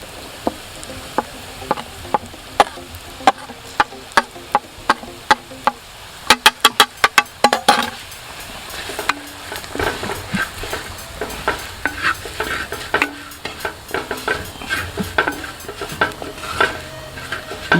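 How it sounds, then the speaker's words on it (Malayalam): Chili powder, a mix of Kashmiri and regular chili, being stirred into Kottayam-style fish curry in a pan, with regular sharp spoon knocks against the pan over a soft sizzle, then busier scraping and clatter, close and loud. "നമ്മളൊരു അഞ്ച് ടേബിൾ സ്പൂൺ മുളക് പൊടി ഇട്ട് കൊടുക്കുകയാണ് ഇത് കാശ്മീരി ചില്ലിയും സാധാരണ മുളക് പൊടിയും മിക്സ് ചെയ്തതാണ്"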